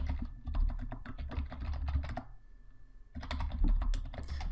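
Rapid typing on a computer keyboard while entering contact details, close and clear, with dense clicking in two bursts separated by a brief pause, no voices.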